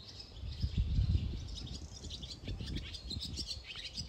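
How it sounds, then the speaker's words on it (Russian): Small birds chirp outdoors beside a summer tiger enclosure at a zoo, faint high tweets scattered over low wind and rumbling background noise. "Тут птички щебечут."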